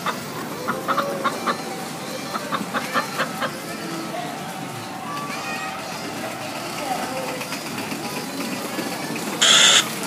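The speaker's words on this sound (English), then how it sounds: "The chickens are loose again." Loose chickens cluck in a toy city emergency scene, rapid clucks and calls near the start giving way to a busier mix of sounds.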